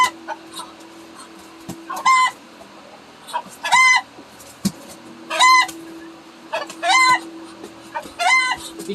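Chickens at a backyard coop clucking and squawking in repeated loud bursts about every second and a half, close to the listener, with quiet gaps between calls.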